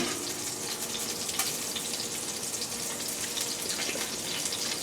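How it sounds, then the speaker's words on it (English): Steak searing in a hot pan, a steady close sizzle and crackle running evenly throughout with no talking. "I'm just re-searing one of the sides."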